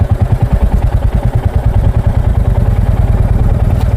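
Two Royal Enfield Classic 350 motorcycles riding together close by, loud engines with a rhythmic throbbing putter and a rattling clatter, steady throughout.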